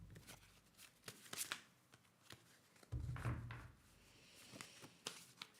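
Tarot cards are shuffled in a series of quick riffles and soft slaps, close and fairly quiet, with a brief rustling thump partway through.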